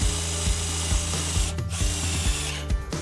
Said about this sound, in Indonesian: Kita lanjut ke pengeboran besi 3 mm pakai mata bor bawaannya aja ya.